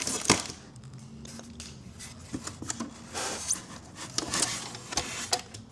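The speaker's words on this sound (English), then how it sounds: "Let's take the tape off." Adhesive tape being peeled and pulled off an embroidery machine's cap attachment during unboxing, heard as close, fairly loud tearing and crinkling with intermittent rips and handling noises.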